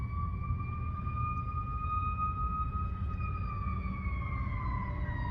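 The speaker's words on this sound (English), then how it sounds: "Oh, it's a fire truck." A fire truck siren wails steadily at a distance in Warner Robins, a sustained tone holding over low traffic rumble.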